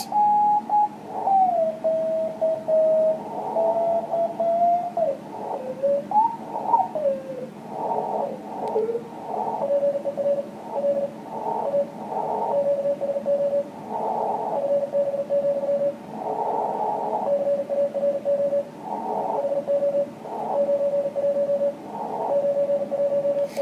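Morse code on an amateur radio band, a steady keyed tone in rapid dots and dashes running throughout, with a brief shifting tone near the start over faint static.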